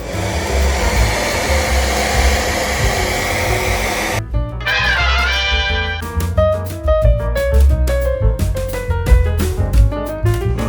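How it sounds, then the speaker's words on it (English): A hair dryer blows loudly and steadily, drying paint on a mural, for about four seconds before cutting abruptly to music. "We have here our trusty hair blower just to help that situation out."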